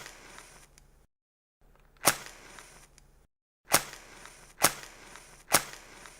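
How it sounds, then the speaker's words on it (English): A match is struck several times up close, each strike a sharp scratchy burst followed by a short crackling flare, separated by brief silences. "That is the sound of me lighting a match."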